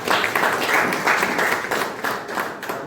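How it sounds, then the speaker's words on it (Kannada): A crowd applauding at a village Kargil Victory Day function, a dense rapid patter of many hands clapping that swells and eases slightly over a few seconds. "ತಮ್ಮ ಜೋರಾದ ಚಪ್ಪಾಳೆ ಮುಖಾಂತರ ಈ ಕಾರ್ಯಕ್ರಮ"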